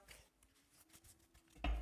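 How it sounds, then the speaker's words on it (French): Oracle cards from the Sacred Destiny Oracle deck are shuffled by hand, a faint string of soft papery taps and riffles that ends in a louder snap. "je m'en vais mélanger les cartes"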